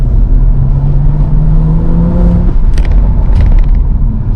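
A BMW 435i M Sport Convertible (F33) with the N55 engine rumbles and revs steadily, then roars up with a rising whir, loud and close throughout.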